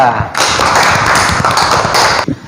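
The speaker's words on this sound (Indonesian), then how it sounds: "sekarang tepuk tangan untuk kelompok 2" A classroom audience applauds a student group with a loud, dense burst of clapping lasting about two seconds, close and full before cutting off.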